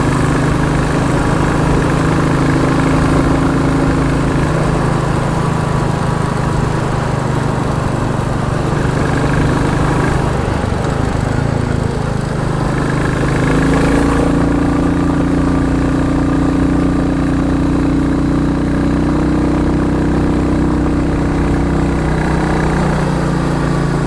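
A Ducati Scrambler motorcycle engine idles loud and close, a steady unbroken rumble that holds its pitch for the whole stretch.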